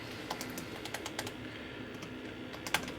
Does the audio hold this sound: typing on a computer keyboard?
yes